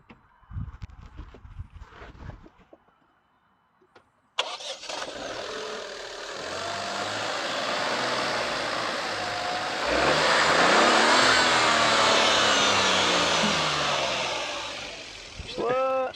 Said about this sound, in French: Petit 3 cylindres. Ça fait un bon bruit de moteur.